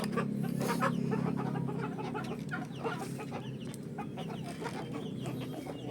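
Silkie chickens clucking close by on a small farm, a busy mix of short overlapping clucks and murmuring calls at low volume, with no voices over them.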